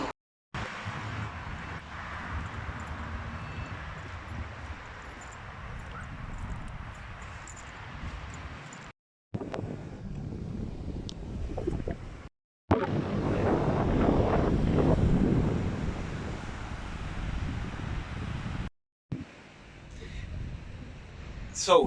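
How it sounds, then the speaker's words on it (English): Strong wind buffets a hand-covered microphone outdoors on a street, heavy low rumbling gusts broken by brief silent gaps, with a few faint traces of a voice between gusts. "the wind is coming that way, and I'm covering the mic, but it is a lot of wind"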